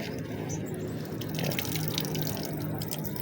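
Water drains quickly through a pot of pure pumice potting mix holding cuttings, a steady close trickling and splashing wash that runs without pause, with a slight swell midway.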